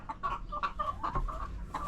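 Pet chickens cluck in a short, steady run of calls, close and clear, with repeated bursts over a low background rumble.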